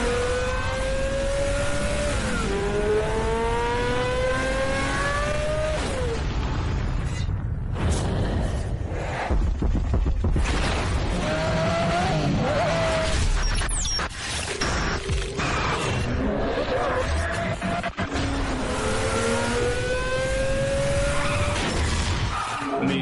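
Race car engines rev and whine in rising and falling sweeps, with tire squeal, skids and mechanical creaks, in a Need for Speed Shift PlayStation racing game advert; the loud, busy mix runs continuously throughout.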